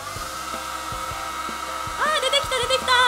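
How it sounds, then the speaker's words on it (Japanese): A hair dryer blows warm air with a steady whirring hiss throughout, and a voice speaks over it in the second half. "ドライヤーの温風をかけてみます。"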